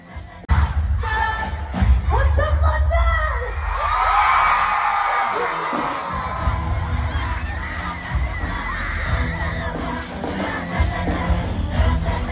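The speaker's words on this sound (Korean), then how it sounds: "그녀들의 파워풀한 무대에 팬들은 보답하듯 더욱 열렬한 환호를 보냈는데요" A large concert crowd of fans cheering, screaming and whooping loudly and continuously, with shrill high voices rising in a sustained roar.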